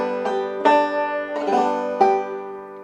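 Solo banjo playing a measure that alternates picked melody notes with strums on the second and fourth beats, four clear attacks ringing out with no voice.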